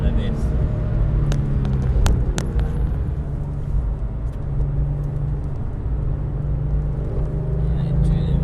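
Porsche GT3 Club Sport race car driven on a track at Saint-Laurent-de-Mûre, a constant low engine drone and rumble heard from inside the cabin, with a few sharp clicks early on and a voice coaching over it.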